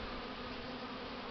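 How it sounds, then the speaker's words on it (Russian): A faint, steady buzz of honeybees flies around a hive during an early cleansing flight on a February winter day, with no voices. "Чистят улей уже пчелы."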